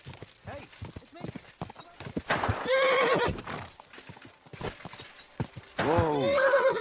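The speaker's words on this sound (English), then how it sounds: "that looks like a bloody expensive horse" A horse in the medieval video game Kingdom Come: Deliverance gives two loud whinnies between quick hoof clip-clops, while people talk in between.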